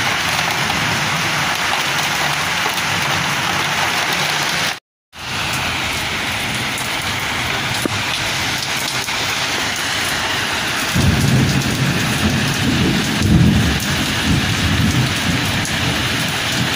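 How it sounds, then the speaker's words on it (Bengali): Steady rain falls outdoors with rolling thunder, a dense even downpour that swells with a deeper low rumble of thunder in the later part; a brief dropout breaks the sound early on. "বাইরে মেঘ ডাকছে, বিদ্যুৎ চমকাচ্ছে"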